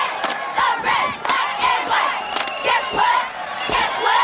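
Cheerleaders at a football game cheer-off, a loud group of voices shouting rhythmic chants in unison with sharp accented bursts throughout.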